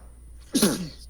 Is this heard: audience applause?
no